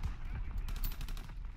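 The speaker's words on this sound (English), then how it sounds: "I'm hearing a lot of gunfire over here, guys." Bursts of automatic and rifle gunfire from Call of Duty WW2 hardcore team deathmatch play, dense rapid cracks layered over low rumbling booms, fairly distant and continuous throughout.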